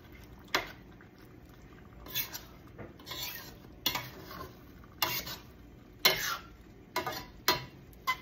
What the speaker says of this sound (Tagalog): So, halo lang natin siya.